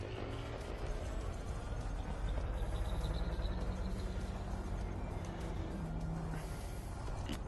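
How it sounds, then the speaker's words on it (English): A loud car passes nearby, its broadband engine and road roar swelling steadily across the whole stretch with no speech over it. "Thank you, loud car."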